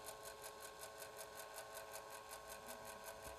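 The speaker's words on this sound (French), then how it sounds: "Elle fait très peu de bruit cette petite machine" A small Silhouette Mint stamp-making machine hums quietly with a steady, rapid mechanical pulsing, low in volume and continuous throughout.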